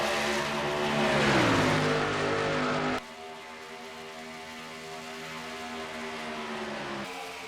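Race trucks on the Darlington oval in a Menard's Truck Series event, loud engines roaring and revving as they sweep past with falling pitch, then a steadier, more distant drone of the pack continuing around the track.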